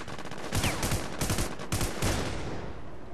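Automatic gunfire in the shooter War Inc Battlezone comes in three or four short, loud bursts of rapid shots, with brief gaps between them and no talking.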